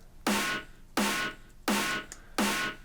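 Four punchy snare drum hits at a steady tempo, each with a sharp crack and a compressed, sustained bright tail, played alone.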